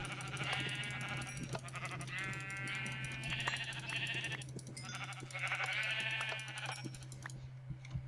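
Sheep bleat in the Minecraft video game, a series of nasal, wavering calls in clustered bursts over a faint steady hum.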